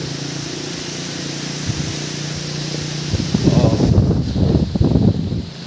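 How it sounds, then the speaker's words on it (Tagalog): Steady rushing wind with a low droning hum, then heavy gusts buffet the microphone in rough, loud bursts; a brief exclamation is heard. "Ang lakas ng hangin."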